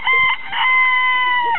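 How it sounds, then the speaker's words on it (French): A rooster crows in a long, loud, clear call with strong harmonic bands, rising at the start then holding steady to the end. "un coq ça chante"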